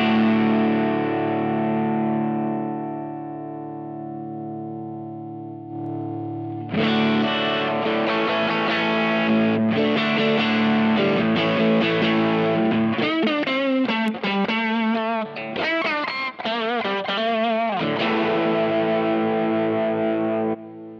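A distorted electric guitar chord through a Kemper overdrive rings out and slowly decays, then gritty overdriven riffs with fast, choppy notes follow, loud and unaccompanied.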